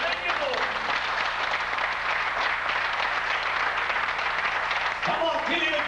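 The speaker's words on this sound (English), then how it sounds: "Give Him another hand clap, will you?" A church congregation claps in sustained, dense applause that fills the room, loud and even throughout, with a few voices rising near the end.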